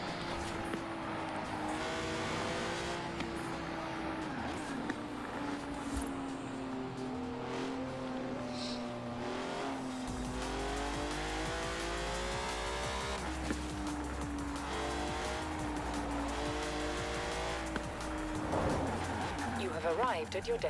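Hypercar engine in the Forza Horizon 4 racing game, a steady revving drone that climbs and settles in pitch through gear changes, with tire squeal and a deep low rumble joining partway, under continuous talk.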